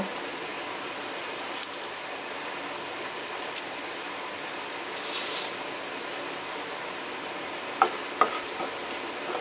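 Tomato, onion, ginger and garlic spice paste with bay leaf and cumin tempering fries in a pan, giving a steady soft sizzle with a brief louder hiss midway and a couple of faint utensil taps near the end.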